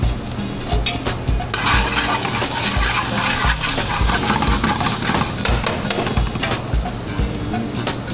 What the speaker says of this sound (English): Saute that up a little bit, get those aromas going.